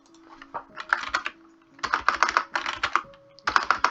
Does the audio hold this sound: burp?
no